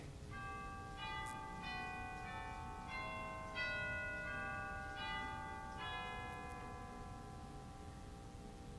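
Several bells ring out in a slow sequence of separate strikes, each note hanging and overlapping the next, all set over a steady low rumble of room noise. The percussion chimes are clear and prominent, and no voices are heard.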